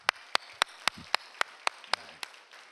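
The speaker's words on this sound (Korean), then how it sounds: "우리 이분들 한 분 한 분 큰 박수로 격려해 주시고" A church congregation gives sparse, slow claps for prayer-meeting award recipients, about ten sharp, evenly spaced hand claps, fairly faint, with a few low murmurs between them.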